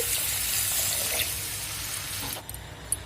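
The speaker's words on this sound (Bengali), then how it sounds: "এরপর আমি অল্প করে জল ঢেলে দিচ্ছি" A little water poured into a pan of cooked-down spices. The pour makes a steady, close rushing hiss that stops suddenly near the end, with no one talking.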